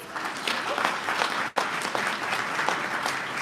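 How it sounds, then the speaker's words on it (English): Steady applause from a convention panel audience fills the whole stretch, a dense wash of clapping with a brief dip partway through. "One round of applause, please."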